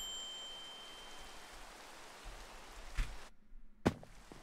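Steady rain falling in a Pokémon video game, a soft continuous hiss that fills the scene, with a couple of brief thuds near the end.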